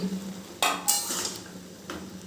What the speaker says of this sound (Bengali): এই যে ঢাকনাটা তুলে নিচ্ছি